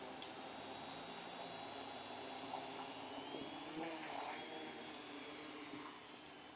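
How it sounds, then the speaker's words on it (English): A small quadcopter's electric motors whine steadily as they throttle up for takeoff during a roof inspection flight, a faint, continuous high-pitched hum with slight pitch shifts. "we're going to slowly start throttling up. Alright, get it off the ground."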